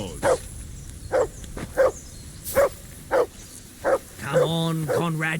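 Loud, close barking from a dog in the video game Kingdom Come Deliverance II: six or seven separate barks at uneven spacing, then a voice speaking over the last of them.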